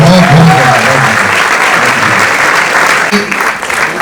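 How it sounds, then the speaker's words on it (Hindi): Audience at a press event applauding Sonu Nigam, dense loud clapping from a crowd that holds steady for a few seconds and then tapers slightly, with a voice briefly heard at the start. "जरा एक बार जोरदार तालियां सोनू जी के लिए"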